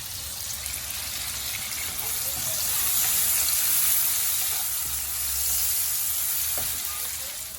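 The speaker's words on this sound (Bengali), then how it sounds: "দেখতে পাচ্ছেন পেঁয়াজ মরিচ এবং চিংড়ি মাছ ভাজা হয়ে গিয়েছে" Onion, green chili and shrimp frying together in a pan, a continuous close hiss of sizzling oil that swells gently and fades again, with a low hum underneath and no talk.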